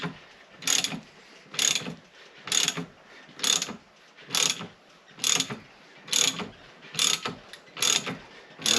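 Ball joint press driving a ball joint out of the knuckle on an OBS Ford F150, F250 or F350 2WD truck, about ten evenly spaced sharp ratcheting clicks as the tool is cranked, close and with no talk.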